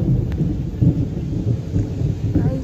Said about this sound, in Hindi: Guys just listen to the clouds roaring, they are literally roaring.